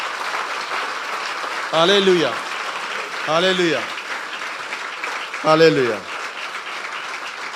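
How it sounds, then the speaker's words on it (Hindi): A church congregation applauds loudly and steadily throughout, with a voice shouting hallelujah three times over the clapping. "मैं चाहता हूं यीशु मसीह के जलाल के लिए हम जोरदार ताली बजाएं।"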